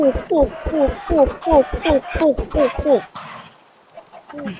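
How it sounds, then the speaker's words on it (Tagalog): A Minecraft chicken clucks repeatedly in quick, rhythmic bursts for about three seconds, then fades into faint background sound. "Nagdagdag tayo ng manok."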